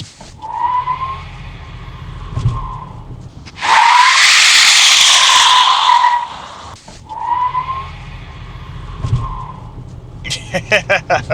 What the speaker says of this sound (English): this makes the front tires spin out when you step on it